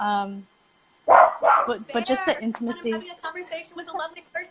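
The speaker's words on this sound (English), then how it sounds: "That's my dog." A dog gives a short, sharp bark indoors at the very start, followed by a pause and then a person talking at length close to the microphone.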